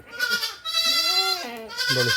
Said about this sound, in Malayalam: നല്ലൊരു പാലാടും രണ്ട് മക്കളും